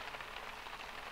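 Steady rain in The Sims 2, a continuous even hiss like drops falling on a surface, with no pauses or other sounds.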